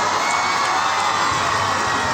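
A large crowd at the inauguration of the Barbil festival greets the chief minister with steady applause, cheering and shouting, a dense continuous roar with no single voice standing out.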